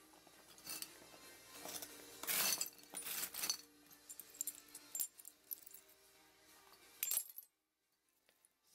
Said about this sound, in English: Some more glass pieces.